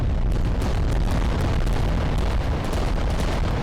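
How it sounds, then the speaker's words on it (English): Volcano cannons fire in the Adeptus Titanicus: Dominus video game, a dense, continuous barrage of heavy booming blasts with a deep rumble that stays loud throughout. "Volcano cannons are the main thing shooting in the front that's actually going to do much damage."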